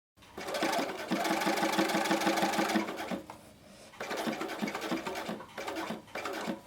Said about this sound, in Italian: A macchina posiziono l'etichetta sui riferimenti che ho disegnato con la matita gesso. Parto da un angolo e cucio lentamente